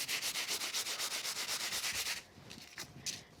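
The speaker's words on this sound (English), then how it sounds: "I'm just going to take a piece of kitchen roll here and give it a light wipe." Kitchen roll rubs in quick, even back-and-forth strokes across a mica letterpress craft background, a soft papery swish that stops abruptly, then a few scattered lighter wipes.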